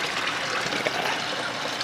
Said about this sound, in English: We got a nice little water fountain that's like a couple of barrels and hooked right into each other